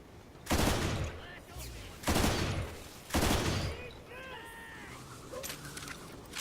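Bursts of rapid-fire rifle gunfire in the video game Lost Planet 2, three loud volleys spaced about a second apart, followed by quieter game effects with faint chirping tones and a low background hum.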